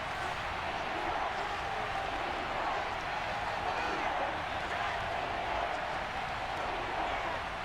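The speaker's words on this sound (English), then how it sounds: "That just means this crowd's going to get even louder" A stadium crowd in Madden 22 roars in a dense, steady wash of cheering that holds at an even level throughout, with commentary voices faintly mixed in.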